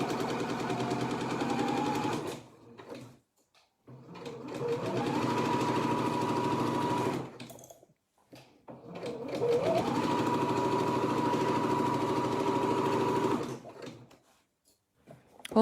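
Sewing machine stitching an ironing board cover, with three long runs of fast, steady mechanical whirring separated by short silent gaps and faint handling clicks.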